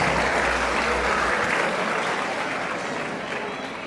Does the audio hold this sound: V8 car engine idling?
no